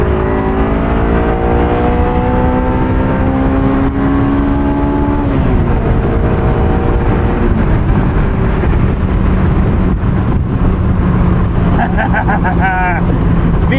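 A 2001 Honda S2000 engine revs hard into VTEC from inside the car, a loud rising howl that climbs, dips at a shift, then builds again under wind roar, with a brief high squeal near the end.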